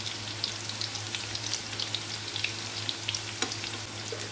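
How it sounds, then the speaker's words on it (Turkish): Cauliflower frying in a pan on the stove: a steady, crackling sizzle with quick popping spatters runs throughout at close range, under a low hum, and no one speaks. "Ters düz çevirerek iyice kızardığını görünce çevirip öbür tarafını da kızartacağım."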